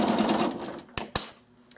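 A sewing machine stitches faux-piped binding, with a short burst of close motor whir that fades out, followed by a few sharp ticks and clicks.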